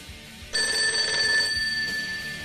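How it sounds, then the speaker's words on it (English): A telephone bell rings in a steady electronic trill that starts abruptly and holds loud and close for about two seconds, with no talking over it. "Oh, hang on, there's a phone call."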